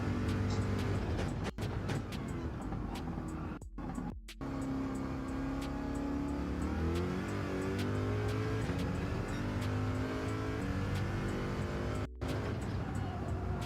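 A Gran Turismo 7 race car roars at full throttle, a sustained loud engine drone with rising and shifting pitch across gear changes, broken by a few brief dropouts, with no voices over it.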